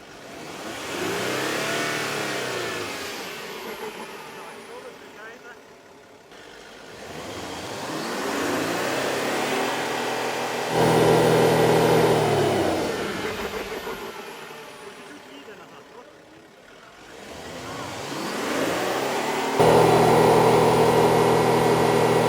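A nearby Lexus GX 470 or VW Touareg SUV engine revs hard in repeated long bursts while stuck off-road, dipping between attempts, straining and loud.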